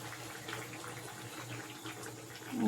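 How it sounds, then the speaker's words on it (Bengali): Fish curry with vegetables simmers in a pan, giving a soft, continuous bubbling and watery burble that stays low and steady throughout with no talking. "এবার এটা ফুটছে, ফুটে নিক।"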